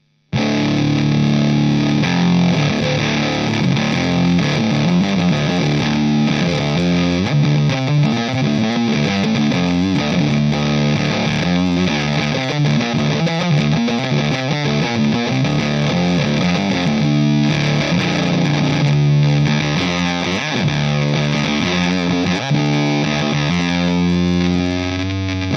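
Guitar played through a Devi Ever Rocket Fuzz pedal, a thick, saturated fuzz tone with dense, continuous riffing and sustained chords, loud and unbroken for the full stretch with no voices.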